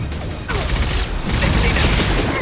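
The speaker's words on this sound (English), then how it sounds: "Stop shooting me!" Rapid gunfire from a Mass Effect 2 combat encounter, a dense crackling fusillade that erupts after a brief pause and continues loudly, with a character voice heard over the shooting.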